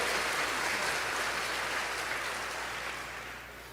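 A church congregation claps together in a long, even wash of applause that sounds somewhat distant and slowly fades out.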